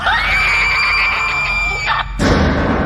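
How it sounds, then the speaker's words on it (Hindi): A woman's and a man's screams blend into one long, loud, piercing shriek as a horror story effect, cutting off sharply into a burst of harsh noise at the end. "उस औरत और अपनी आवाज की मिली जुली चीख"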